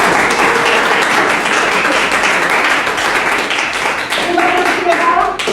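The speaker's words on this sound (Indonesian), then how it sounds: "tepuk tangan untuk kita semua" A class of students claps together at the close of a school lesson, a dense steady patter of many hands held for several seconds, with a faint voice speaking over it near the end.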